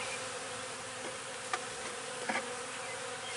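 Honey bees drone steadily at a hive during installation, a continuous close buzzing with a few brief louder passes near the middle and end.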